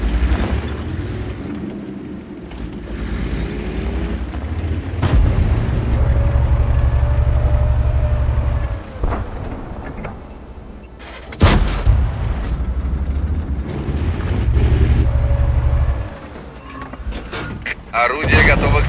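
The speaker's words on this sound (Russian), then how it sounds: "Орудие заряжено." Booming cannon shots from a T25 AT tank destroyer in World of Tanks, several loud blasts spaced seconds apart with rumbling engine noise between them and occasional crew voice lines.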